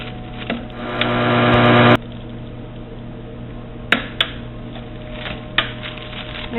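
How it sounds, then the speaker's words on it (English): A vacuum packer heat-seals a bag of fruit roll-up: a steady mechanical hum builds for about a second, then cuts off abruptly, followed by quieter handling clicks and taps. "I'm just going to use the heat seal on it."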